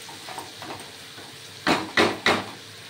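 Prawns fry in a pan with a soft sizzle, and three sharp scraping stirs follow close together near the end, close up with no voices.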